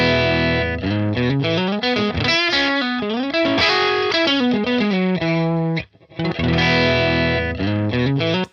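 Electric guitar run through a Line 6 Helix Matchstick amp model with an impulse response loaded, playing loud, driven melodic lines and chords with sustained notes and a brief pause near the end, no talking.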